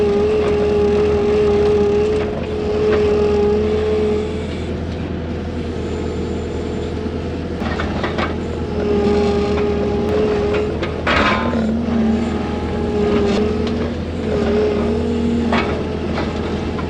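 A skid steer loader runs steadily with a droning diesel engine rumble and a whining hydraulic tone that rises and falls, plus occasional clanks and knocks, fairly close and loud with no talking.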